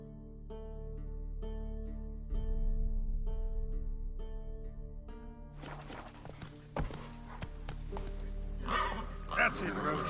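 A horse gallops in The Witcher 3 on a PS5: rhythmic hoof clip-clop and a whinny over steady game music, with a voice speaking in between.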